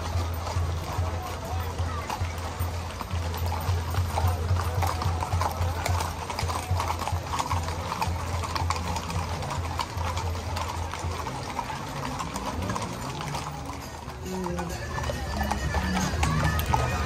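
Horses' hooves clip-clop steadily through a cabalgata parade at the Culiacán livestock fair, a continuous crowd-like bustle and low drone running beneath the hoofbeats.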